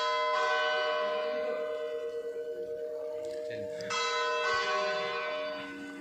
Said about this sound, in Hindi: वो घंटी की आवाज़ आपने सुनी होगी और ये फिर से दोबारा रिंग हुआ